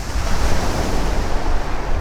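Sea waves wash steadily onto the shore at Nice, a continuous broadband roar with some wind rumble and no distinct breaks, close and fairly loud throughout.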